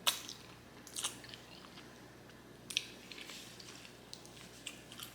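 Black bean noodles are chewed close to the mic in a quiet room, with a few sharp crunchy bites and wet, sticky mastication sounds spread irregularly over several seconds, and no talking.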